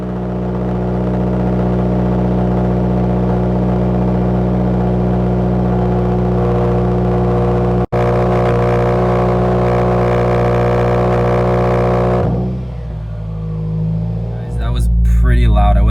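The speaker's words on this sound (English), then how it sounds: "So what I'm going to do now is give you guys a cold start" Subaru WRX engine cold starting and settling into a loud, steady high idle with a dense droning hum that runs evenly, briefly cuts out, then resumes before dropping away near the end as other noises take over.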